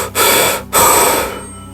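Heavy gasping breaths from someone waking abruptly in a school sick room after fainting, two sharp ragged inhalations in quick succession followed by a fading exhale, close and loud with no talk.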